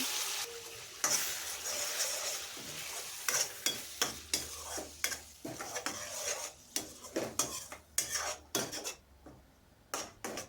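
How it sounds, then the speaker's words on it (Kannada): Ground masala for a restaurant-style egg curry frying in a pan, stirred with a utensil. Steady sizzling under repeated scraping and clinking strokes against the pan, close and fairly loud, with no talking. "ಈಗ ಇದಕ್ಕೆ ರುಬ್ಬಿರುವಂತಹ ಮಸಾಲೆನ ಹಾಕೋತಾ ಇದ್ದೀನಿ ಇದನ್ನು ಸಹ ಚೆನ್ನಾಗಿ ಫ್ರೈ ಮಾಡ್ಕೋಬೇಕಾಗುತ್ತೆ"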